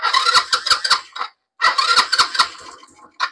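A Rusi Passion motorcycle's electric starter cranks the engine in two quick rhythmic bursts with a brief silent gap between them, then a short final chug, all close and loud.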